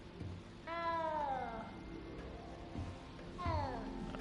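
Cat meowing in the game Hogwarts Legacy: two drawn-out, falling meows, close and moderately loud, separated by a quiet pause over a low background hum.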